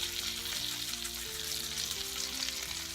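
Cornmeal-coated fish frying in hot bacon grease, a steady, dense sizzle and crackle that holds an even level throughout, with faint tonal background sounds underneath.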